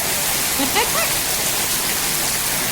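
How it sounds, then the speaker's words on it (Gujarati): Heavy monsoon-season rain pours down in Gir, a dense, steady hiss of downpour with brief faint chirps over it. "ફૂલ સાંભેલાની ધારે વરસાદ ચાલુ થઈ ગયો"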